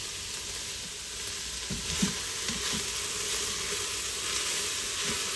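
Chopped carrots sauté in an Instant Pot, giving a steady, even frying hiss with a few soft stirring knocks mixed in, no voices.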